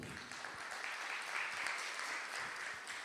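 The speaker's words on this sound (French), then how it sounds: "Elle est là, on peut l'applaudir." Audience applause for a guest from the Ivorian embassy at an International Mother Language Day celebration, a steady, moderately distant wash of clapping from a room of people lasting about three seconds with no talk over it.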